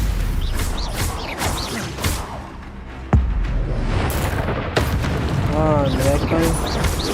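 A Stupefy spell is cast in the Hogwarts Legacy video game, landing as a sharp crack and thump midway through, with other game effects and a spoken voice around it.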